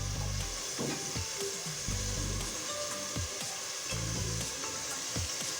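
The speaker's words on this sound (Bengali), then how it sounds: "আমি কেটে রাখা এই সবজিগুলো দিয়ে দিব, দিয়ে আর একটু ভেজে ভেজে নেব" Chopped vegetables fry in a pan, a continuous sizzle running throughout with periodic low scraping thumps of stirring.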